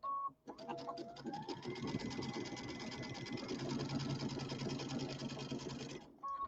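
A sewing machine runs a quarter-inch pillow seam in one steady, continuous mechanical whir lasting several seconds, fairly quiet and close, with a brief pause near the start and none of the talk breaking in.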